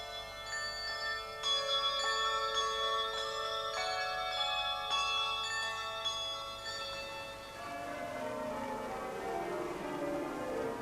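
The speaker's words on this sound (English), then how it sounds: "the bells of York Minster itself, which ring out across the city at weekends" Church bells of York Minster ring out in a rich, sustained peal of overlapping tones, loud and resonant, with a long decaying wash of harmonics as the strikes fade toward the end.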